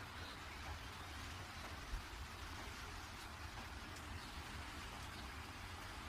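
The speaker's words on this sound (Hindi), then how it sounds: "और बारिश बहुत तेज होती है," Heavy rain in a cartoon pours down as an even, steady hiss, faint and constant throughout with no voices over it.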